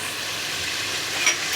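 Chicken for chicken pulusu fries in oil with a steady, moderate hiss and a single faint tap near the end, no talking.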